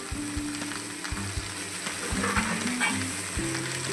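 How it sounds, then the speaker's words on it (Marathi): Okra stir-fried in hot oil for a spicy thecha gives a steady close sizzle with occasional stirring scrapes and low tonal hums throughout. "व्यवस्थित घालून परतवत राहायचं आपली भेंडी तेलावर"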